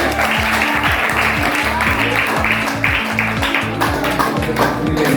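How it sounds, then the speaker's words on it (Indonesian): A classroom full of people claps steadily together, a dense, sustained round of applause that keeps going throughout. "Untuk itu kita beri tepuk tangan untuk kita semua."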